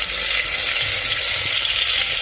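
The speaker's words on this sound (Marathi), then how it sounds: "असं तेल टाकून घेते." Oil hitting a hot pan on a home stove while guar bean curry is cooked, giving a steady, dense, close sizzle that holds evenly throughout with no voices.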